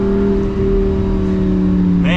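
Lamborghini accelerating hard, a loud, steady engine roar with strong low harmonics throughout, rising into a sharper high-pitched rev near the end.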